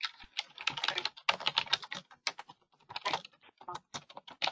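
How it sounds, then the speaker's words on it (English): Rapid clicking of keys on a computer keyboard, close and steady in irregular bursts, with no speech over it. "who's typing?"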